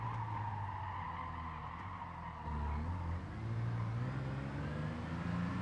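Car engine in the GT Sport racing game, driving a Copen, with a continuous engine drone that drops in pitch around the halfway point and then climbs again, steady and close with no talking.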